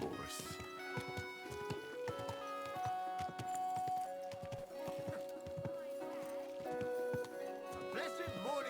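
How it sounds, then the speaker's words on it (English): A horse's hooves clip-clop at a steady walking pace in the medieval game Kingdom Come Deliverance II, close up and evenly rhythmic, set against a sustained background music score. "Easy, good horse."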